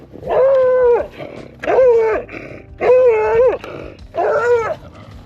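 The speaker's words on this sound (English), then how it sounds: "Look how cute this little beagle is." A beagle barks through a small port in a neighbor's fence, giving four loud, drawn-out howling bays at an even pace, close by.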